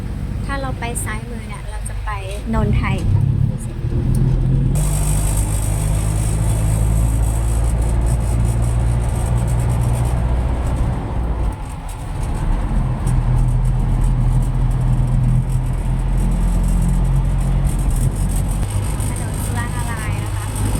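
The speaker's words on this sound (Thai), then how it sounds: "ตอนนี้รถเขากำลังติดไฟ" A village bus that runs into town starts its engine and idles, with a low, steady rumble that carries on throughout while someone talks over it.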